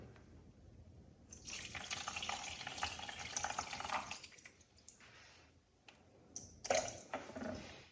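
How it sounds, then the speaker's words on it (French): Water is poured onto semolina grains soaked in oil, heard as a close, soft stream of liquid that runs for a few seconds, then trickles and drips. "Je vais y ajouter de l'eau."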